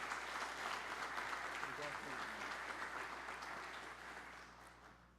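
Sustained applause fills a chamber of the São Paulo state parliament during a ceremony honoring the Brazilian armed forces, the clapping dense and even before gradually tapering off.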